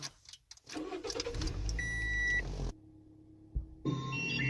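A 2008 Toyota Yaris engine cranks and rumbles to life, loud and close, joined by electronic beeps and chime-like tones before settling into a steady idle hum.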